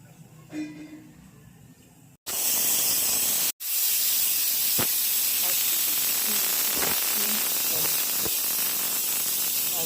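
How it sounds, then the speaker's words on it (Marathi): A pressure cooker on the stove building up to its whistle while cooking rice and dal for khichdi, then a loud, sustained jet of hissing steam after a couple of abrupt cutoffs, with faint talk before the release. "कुकरच्या दोन ते तीन शिट्ट्या करून घ्यायच्या"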